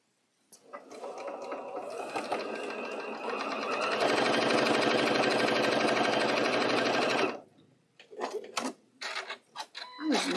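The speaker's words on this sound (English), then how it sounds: "It's like sewing without thread. The machine came unthreaded." An unthreaded sewing machine runs steadily and loudly for about seven seconds, then stops, followed by a few short bursts and clicks.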